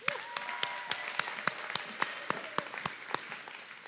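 Steady audience applause at a high school graduation ceremony, many hands clapping with distinct sharp claps standing out near the front, sustained evenly for a few seconds.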